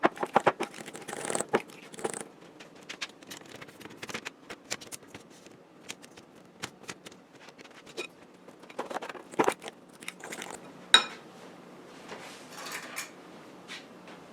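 Eggs and filling for a breakfast pizza being mixed in a bowl, with soft irregular scraping, clinking and sloshing at close range, some sharper knocks among the quieter stirring and no talk.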